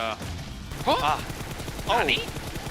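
Bursts of automatic gunfire in PUBG Mobile during a global championship match, a rapid spray heard twice under an excited caster's voice.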